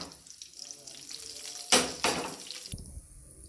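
Whole cumin and coriander seeds hit hot oil already holding a bay leaf, setting off two loud bursts of crackling sizzle close by, then a softer steady fry.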